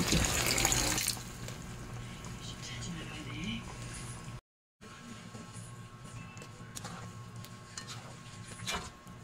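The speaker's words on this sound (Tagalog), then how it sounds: "Lagyan din natin siya ng konting tubig." Water is poured from a tap or container into a pan of menudo cooking on the stove, a steady running and filling sound that sits under quiet talk before fading to kitchen background.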